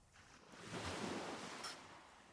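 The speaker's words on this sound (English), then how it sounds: "Listen as the ocean continues its endless song." Ocean waves wash onto a beach shore, a soft broad surge that swells and recedes over a couple of seconds, steady and moderately faint with no voices.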